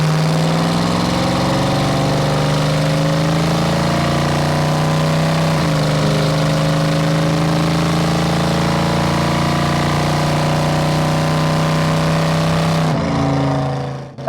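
A restored 1971 Dodge Dart with dual exhaust holds a steady, loud drone with rising harmonic tones as it accelerates, shifting once midway, then drops sharply near the end.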